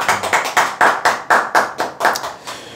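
Close, firm hand claps, about eleven of them, land in an even, brisk rhythm at roughly four per second, each one sharp with a short decay.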